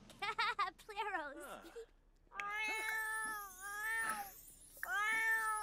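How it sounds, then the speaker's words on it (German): A cat in The Sims 4 video game meows several times, drawn-out and whiny with short breaks, clear and fairly close. "Katze!"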